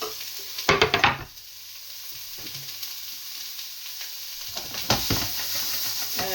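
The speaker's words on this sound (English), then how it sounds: "But the sofrito into the pan." Sofrito dropped into a hot pan for a Bolognese, with a sharp burst of clattering as it lands, then a steady close sizzle and hiss that swells again near the end.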